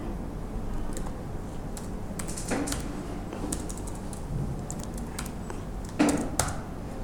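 Steady typing on a computer keyboard, continuous close key clatter with occasional louder keystrokes over a faint background hum.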